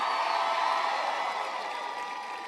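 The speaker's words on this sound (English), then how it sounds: "can everybody please give Sonia a big round of applause for that great introduction?" Sustained applause and cheering from a large crowd at an outdoor campaign rally in Columbus, Ohio, a steady loud wash of clapping and whoops that holds for the whole stretch.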